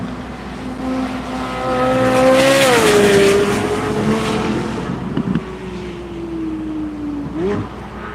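The Michelin Corvette race car drives on the track at VIR, its loud engine note climbing and then falling as it passes. Tires squeal briefly, and there is no talk.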